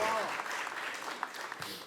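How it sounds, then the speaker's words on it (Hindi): Applause from the audience at a Hindi poetry gathering in Shimla rises under a voice, a brief steady burst of many hands clapping together. "तालियां आपकी सबकी एक साथ आनी चाहिए"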